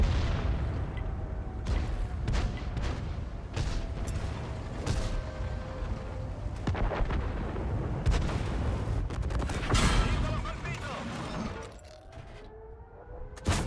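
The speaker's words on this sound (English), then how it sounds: "He's trying to take a couple shots at that LT-432 across the way on the ridge." Tank cannon fire in the war video game WotR, booming shots over rumbling mechanical battlefield noise, with several sharp cracks spread through the scene and a denser volley near the end.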